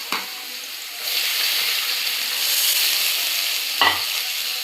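Fish fried lightly in hot oil, a steady broadband sizzle that holds for several seconds, with two brief clatters of a utensil near the start and end; no one speaks.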